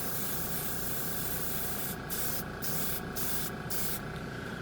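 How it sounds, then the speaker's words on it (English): A paint sprayer hisses steadily as it lays down top coat, a loud continuous spray with brief gaps near the end where the trigger is released and pulled again. "So it sprays the top coats and I'll say base coats quite well"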